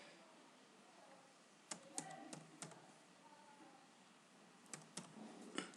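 A username is typed on a computer keyboard in short, quiet bursts of keystrokes separated by pauses, close to the microphone in an otherwise hushed room.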